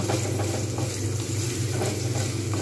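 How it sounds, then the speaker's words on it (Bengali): Onions fry in hot oil with a dense, continuous close sizzle and crackle, steady and loud throughout, heard on its own with no talking. "তেলের মধ্যে দিয়ে দেবো পেঁয়াজগুলো। পেঁয়াজগুলো খুব সুন্দরভাবে আমি কিন্তু ভাজবো।"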